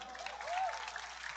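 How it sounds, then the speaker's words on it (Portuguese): Audience applause for a speaker at a Brazilian public event, a steady wash of many hands clapping at moderate, even loudness throughout, with a faint voice briefly audible underneath. "Uma salva de palmas para essa mulher, pelo amor de Deus."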